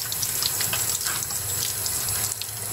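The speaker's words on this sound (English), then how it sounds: "I'm just using nothing but warm water," Warm tap water runs steadily from a faucet over a rusty item, making a close, continuous splashing rush with no pauses.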